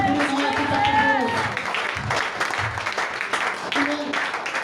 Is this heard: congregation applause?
yes